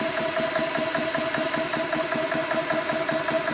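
A pump motor runs with its bleeder valve open, giving a steady, fairly faint mechanical hum with a quick regular pulsing throughout.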